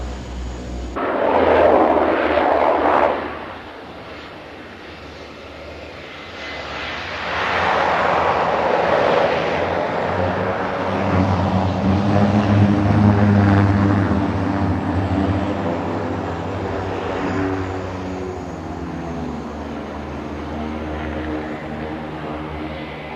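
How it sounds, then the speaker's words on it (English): A Twin Otter propeller plane drones as it lands on the steep mountain airstrip at Lukla, its engine roar swelling and easing in loud waves over a low steady rumble. "Only an aircraft like the Twin Otter can land here."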